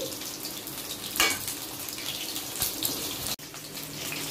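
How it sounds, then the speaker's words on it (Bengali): Paneer pieces frying pakora-style in hot oil give a continuous close hiss and crackle, with a brief louder burst where the pieces are turned. "যেরকম ভাবে পকোড়া করা হয় ওইরকম ভাবে এটাকে ফ্রাই করে নামিয়ে নেবো"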